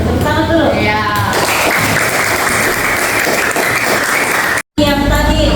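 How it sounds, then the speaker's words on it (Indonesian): A classroom of students applauds with loud, dense clapping that carries on steadily for several seconds and briefly cuts out before resuming. "Tepuk tangan dulu."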